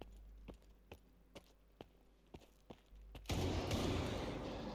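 Sharp, spaced gunshots in the video game S.T.A.L.K.E.R. 2: Heart of Chornobyl crack about every half second, faint against the quiet, then give way to a sudden rush of loud noise.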